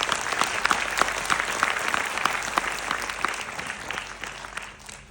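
Audience applause at a business talk: a steady, full spread of many hands clapping, with sharp individual claps poking through, gradually easing off at the end.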